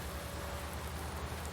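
Steady rain in the Farming Simulator 19 video game, in an Alpine farming setting: a constant, even hiss of falling rain, moderately quiet, with no voices over it.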